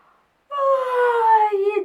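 A storyteller voices a long, drawn-out yawn imitation in a children's tale, a falling moan-like exhale lasting over a second after a brief quiet pause, close and clear.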